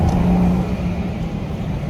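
Cabin sound of a BMW X5 M Sport with a FlowMaster exhaust and quad tips, heard from inside as it accelerates: a steady low engine drone and road rumble, moderately loud and muffled.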